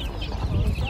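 Chicks and chickens, including light Brahma chicks, cluck and cheep at an outdoor poultry market in Ankara, a close, busy mix of calls over low rumbling background noise.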